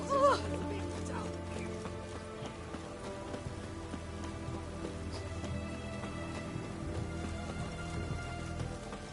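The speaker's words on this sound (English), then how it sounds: "It's raining, of course." Steady rain pattering on surfaces in The Witcher 3: Wild Hunt, a soft continuous wash under a game score with a horse and voices heard at moments.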